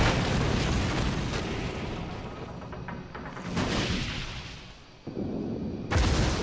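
Heavy booms and explosions roll through a naval battle game as a battleship goes down, loud rumbling bursts fading and then striking again near the end, with no talk over them.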